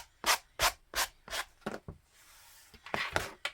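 Several quick, close scratchy strokes of a sanding block rubbing along composition notebook page edges, a short pause, then a few more strokes.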